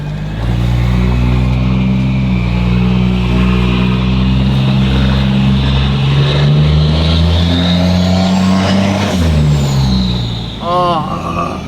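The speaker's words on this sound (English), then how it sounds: "I cannot get over how nasty this turbo sounds" A heavy turbocharged diesel engine in a 1200-horsepower street truck revs and holds a deep, loud drone, its pitch climbing and falling, with a turbo whine riding above.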